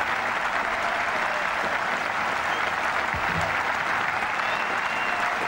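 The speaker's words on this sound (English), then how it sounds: "Suddenly the ground is filled with applause, as it always was" Sustained crowd applause fills a cricket ground during a 1990 Test match against India, a steady dense wash of clapping from a large distant crowd that continues throughout without letting up.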